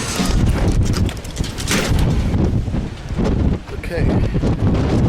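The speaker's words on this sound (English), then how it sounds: "See what the wind looks like." Strong high desert wind in Ocotillo blowing at about 30 miles an hour, buffeting the microphone with loud, gusty roaring that rises and dips, while a person speaks briefly.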